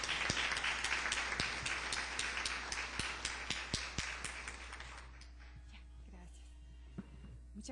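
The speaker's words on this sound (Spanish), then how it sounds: "Lo recibimos con calurosas palmas y con mucho agradecimiento por esta visita que nos hacen" A seated audience at an international event at a judicial academy claps warmly to welcome a guest speaker, with dense close applause and distinct sharp claps that thin out and fade toward the end.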